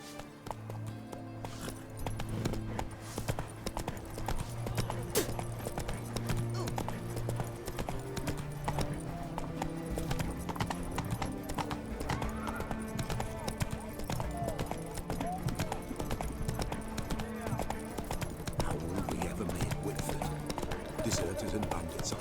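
Roach the horse's hoofbeats in The Witcher 3, a steady clip-clop running under game voices and background music throughout.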